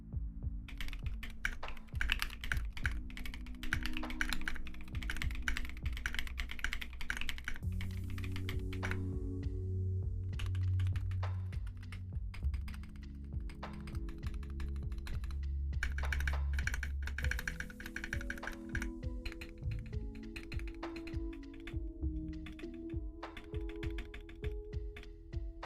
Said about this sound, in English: So let's just do a typing test.